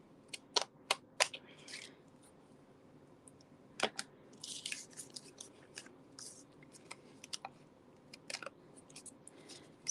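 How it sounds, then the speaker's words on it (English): Scissors snip through card during a papercraft session: a scattering of crisp, close cuts and sharp clicks, some in quick runs and some alone, over a quiet room with no talking. "I'm going to take my scissors and cut those off."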